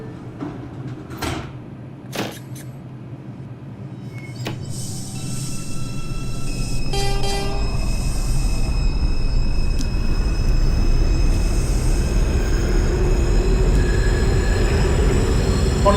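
An R142 subway train in the OpenBVE simulator: a door chime and thuds as the doors close, then a low rumble that builds steadily as the train pulls away and holds loud to the end.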